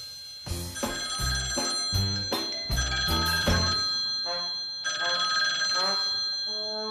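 A telephone rings in repeated bursts of bright, tonal bell-like tones, loud and close, with a short pause before ringing again.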